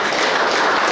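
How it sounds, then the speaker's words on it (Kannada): Dense, steady audience applause at a cricket association award ceremony, even broadband clapping from a crowd held at a constant level for the whole second with no voices. "ದಯವಿಟ್ಟು ಗಟ್ಟಿ ಚಪ್ಪಾಳೆ ಬರಲಿ"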